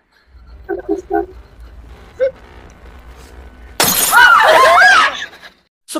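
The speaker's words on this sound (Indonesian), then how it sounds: "gelas di depan Emma yang katanya mahal tiba-tiba pecah" An expensive drinking glass shatters suddenly in a horror film, a loud crash of breaking glass after quieter dull knocks, its bright shards ringing out for about a second before cutting to silence.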